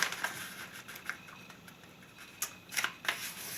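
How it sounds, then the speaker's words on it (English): Origami paper being folded along a center crease for a doll model gives soft, crisp rustles and sharp little creasing snaps, a few scattered taps close by against quiet room noise. "we're going to take this bottom edge, we're going to fold this to the center crease"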